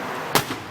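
A burning truck's gas tank goes off in one sharp, loud blast, followed by a weaker secondary thump over steady roaring fire noise.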